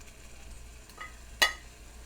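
Steak searing in a hot pan over high heat gives a faint, steady sizzling hiss, with one sharp metallic clink partway through and no voices.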